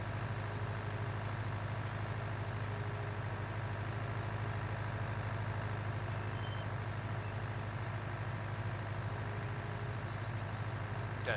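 Steady tractor engine drone from a farming simulator game, a constant low rumble with a mechanical hum that holds evenly throughout, with no talking.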